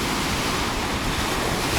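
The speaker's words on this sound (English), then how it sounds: "That's really a stormy weather here" Waves on Lake Taupō, New Zealand's largest lake, churn in stormy weather with a dense, continuous roar of surf mixed with wind buffeting, loud and unbroken.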